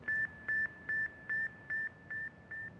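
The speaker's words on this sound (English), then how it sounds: "I could hear this little chirping sound, more like a cricket chirping than it was" Seven evenly spaced electronic beeps from the Sputnik 1 satellite radio signal, each a steady short chirp-like tone repeating about twice per second, faint against a quiet hiss.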